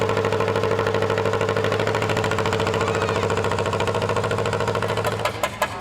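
Tractor engine idling at an outdoor hayride during a swamp festival, a steady low rumble with rhythmic knocking that runs throughout, shifting slightly near the end.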